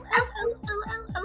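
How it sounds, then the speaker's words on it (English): Dogs at home respond to a doorbell with a quick run of short, sharp barks and yips, several close together, fairly near and moderately loud. "Oh, the dogs will bark."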